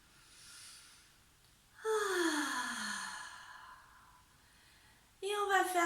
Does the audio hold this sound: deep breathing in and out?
yes